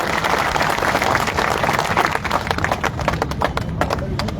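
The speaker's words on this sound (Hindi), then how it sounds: "आप लोग जोरदार ताली बजाकर स्वागत अभिनंदन कीजिए।" Crowd applauding in welcome for a newly elected BJP district president's first arrival in Prithvipur, a loud dense wash of clapping that continues throughout without a break.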